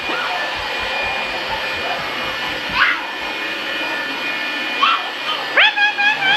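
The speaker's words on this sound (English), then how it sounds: "This is what Quinn does when I vacuum" A household vacuum cleaner runs with a steady, loud motor whine throughout, while playful voices and squeals break in over it.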